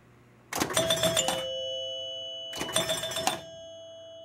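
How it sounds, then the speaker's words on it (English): Two bright ringing bursts of bell chimes from a Spirit of 76 pinball machine, each a rapid cluster of strikes lasting about a second, with a quiet pause between them and a lingering tone. "the chimes are also making a lot of noise"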